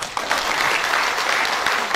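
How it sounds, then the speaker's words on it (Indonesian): A seminar audience applauds throughout, a steady, full burst of many hands clapping close by, with no talking over it. "Oke, tepuk tangan."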